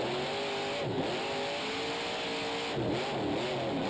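Grave Digger monster truck, driven by Dennis Anderson, revs hard in a freestyle run inside a stadium arena in Arlington, Texas, its engine roaring continuously with surging pitch swells amid crowd noise.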